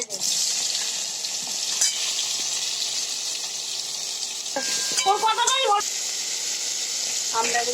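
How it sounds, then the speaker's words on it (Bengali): Amla, Indian gooseberries, sizzle in a little oil with panch phoron in a kadai while being stirred, a steady close frying hiss with scraping stir sounds and faint speech in the background. "আস্তে আস্তে কড়ার মধ্যে দিয়ে একটু ভালো করে নাড়তে থাকবে।"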